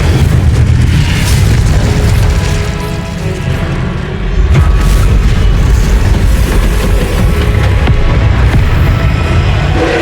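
An Incendio fire spell blast in Hogwarts Legacy combat, heard as a very loud, unbroken roaring boom of flame and impact, with a brief dip before another heavy surge, set against game effects.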